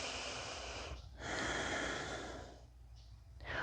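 Slow, close breathing comes from someone holding a seated chair-yoga twist: soft airy inhales and exhales with a brief pause between them, quiet and alone.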